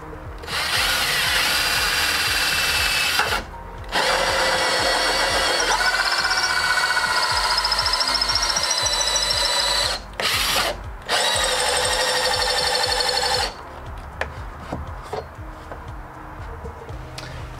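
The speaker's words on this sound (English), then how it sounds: "attempt to drill this thing out" Power drill boring through hard wood during a bus conversion, a loud continuous whining grind in several long runs with short stops between them, followed by quieter clunks and handling noise.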